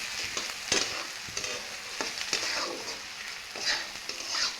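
Onion fries in oil for bhurji, a close, continuous crackling sizzle broken by repeated scraping strokes of a spoon stirring the pan.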